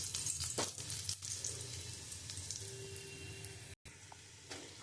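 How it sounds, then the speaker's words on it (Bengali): Dry red chilli, bay leaf and cumin crackle in hot oil at a steady, soft sizzle, with a few sharp clinks and light knocks, then one brief dropout. "আমি ওই তেলের মধ্যে শুকনো লঙ্কা, তেজপাতা আর জিরে ফোড়ন দিয়ে দিচ্ছি।"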